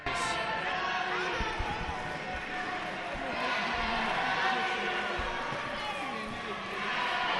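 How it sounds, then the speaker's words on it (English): Wrestling crowd at a PPW High Voltage pro wrestling show, a steady dense roar of jeering voices throughout, with scattered thumps and bumps beneath it. "This crowd is really letting Ryan Race have it"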